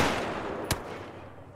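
Two sharp gunshots from the military shooter Arma 3, each a lone crack spaced almost a second apart, at moderate distance over a steady ambient hiss with no talking.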